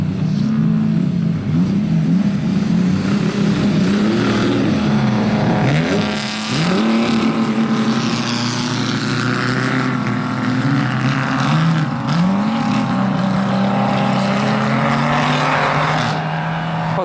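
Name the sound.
expensive supercars driving loudly on ice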